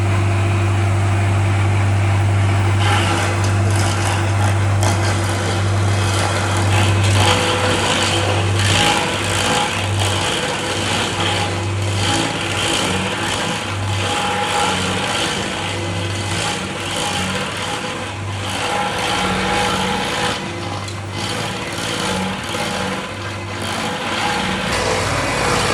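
A truck engine runs steadily with a hydraulic ram grinding as it slowly extends to push over a huge red oak; a continuous loud mechanical drone with a low hum throughout and no talking.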